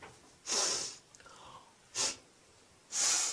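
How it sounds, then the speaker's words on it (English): Three sharp nasal sniffs, done to show disapproval, come close and fairly quiet with short pauses between them, along with a faint breath in the middle. "How do I show disapproval? Easy. You sniff."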